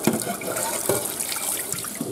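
Water from a running tap rinses a freshly cleaned crab in a sink, a steady close splashing stream with small spattering bursts throughout.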